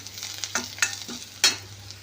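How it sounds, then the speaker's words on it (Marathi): Crushed ginger-garlic paste frying in a pan, a soft steady sizzle broken by a few quick scraping strokes of a spoon stirring it. "आता मी हे छानपैकी भाजून घेत आहे"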